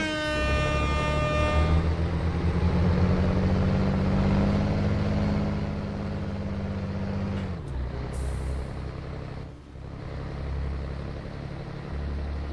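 An old Scania truck hauling a car-carrier trailer sounds a loud, sustained horn for several seconds over a steady engine rumble, then the blast cuts off and the engine idles on.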